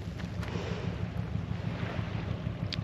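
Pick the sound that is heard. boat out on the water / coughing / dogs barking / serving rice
boat out on the water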